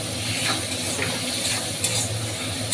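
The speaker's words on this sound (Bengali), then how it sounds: "তো এইভাবে একটু নাড়াচাড়া দিয়ে ভাজতে হবে" Chopped tomato frying with hilsa fish head in a pan, a continuous close sizzle with occasional soft scrapes and clicks of stirring, no talking.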